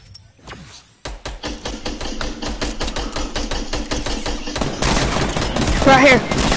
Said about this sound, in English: Did you shoot hand cannon?